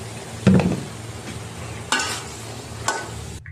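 Potatoes go into a hot pan and fry with a low steady sizzle, with a few sharp clinks and scrapes of a spoon stirring against the pan.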